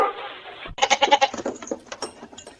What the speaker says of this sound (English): Hey, goat, that's not food, buddy.